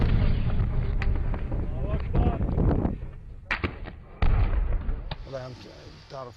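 Gunfire during a battle near Tripoli, scattered sharp shots and booms of varying distance, some close and loud, others distant, over a noisy outdoor background with voices.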